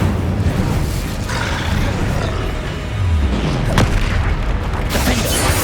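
Incendio fire spell cast in Hogwarts Legacy on PS5, a loud whooshing, roaring burst with rumbling booms and crackle amid dense combat noise, one sharp crack standing out near the end.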